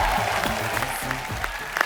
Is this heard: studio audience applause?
yes